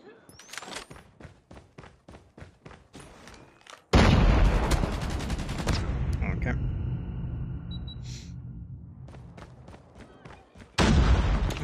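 Rapid SKS rifle shots in a multiplayer video game hardpoint match, a string of sharp repeated cracks followed by a loud sustained burst of heavy explosive gunfire and rumble, then another loud blast at the end.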